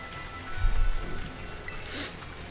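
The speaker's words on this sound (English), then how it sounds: "I'm sorry if you can hear the rain outside." Rain patters outside, a soft continuous hiss heard from indoors, with a low thump early on and a brief brighter burst near the end.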